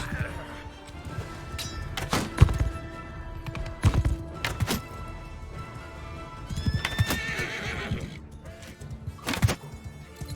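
A horse neighs and hooves clip-clop amid battle noise and thuds during a siege in Mount and Blade Bannerlord, with a voice talking over the game sounds.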